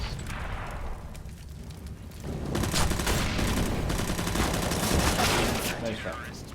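Rapid gunfire from the tactical shooter game CS:GO, loud and dense bursts running through most of the stretch with a brief quieter start, heard over game ambience.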